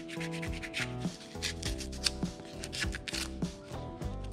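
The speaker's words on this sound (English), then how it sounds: "Clean everything up with some brake clean." Brake cleaner is used to wipe parts of a 1947 Ford Coupe clean, heard as close, brisk rhythmic rubbing and scrubbing strokes, about two per second, with no talk over them.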